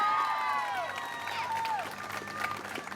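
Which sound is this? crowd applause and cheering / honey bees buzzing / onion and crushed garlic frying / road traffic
crowd applause and cheering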